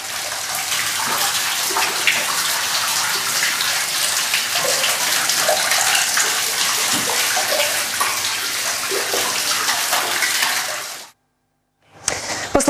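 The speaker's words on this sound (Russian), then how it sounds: "Вода хлестала прямо из трещин в стене." Water gushing through cracks in the wall of a flooded photo studio room, a loud continuous splashing rush that cuts off abruptly near the end before a brief return.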